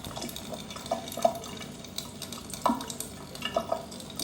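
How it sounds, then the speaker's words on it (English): Running water from a tap as hands are washed while making sausage, a soft steady splash with light rubbing and splatter sounds, faint and close. "Wash my hands."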